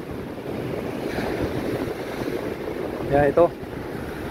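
Night surf on Boracay beach, a steady broad roar of waves washing in, loud and constant, with wind on the microphone and someone speaking briefly over it.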